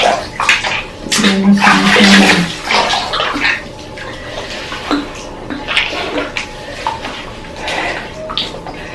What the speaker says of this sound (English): Why did you fall in the bathtub?